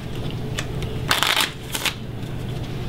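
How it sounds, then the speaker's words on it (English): A deck of playing cards is shuffled at a close-up magic performance, giving quick riffling bursts of crisp, papery fluttering, close and fairly loud, with no talking. "shuffle them until even you wouldn't know where the card is"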